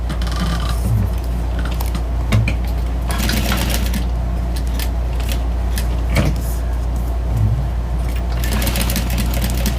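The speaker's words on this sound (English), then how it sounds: "I'm going to sew my label onto this waterproof canvas" A sewing machine stitches a label onto waterproof canvas, running in a loud, steady mechanical whir with rhythmic needle clatter for the full length and a few short pauses and clicks, with no talking.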